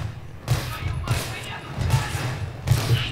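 Sharp video game gunshots fire in quick bursts at a steady pace, loud and close, with muffled Russian talk about a silencer underneath.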